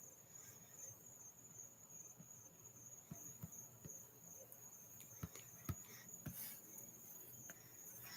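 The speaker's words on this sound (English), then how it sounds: "Oh yeah, there are definitely crickets." Crickets chirp outdoors in a constant high, thin trill that runs throughout at a steady faint level, with scattered soft clicks and taps close by.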